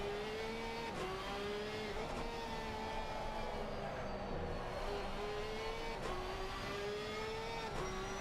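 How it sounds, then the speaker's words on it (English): GT3 race car screaming around Indianapolis in a racing game, the engine note climbing and dropping with sharp shifts about once a second, steady and sustained without talk. "Oh, listen, that engine is screaming."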